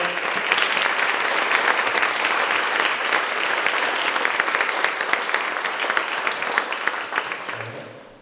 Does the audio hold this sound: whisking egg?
no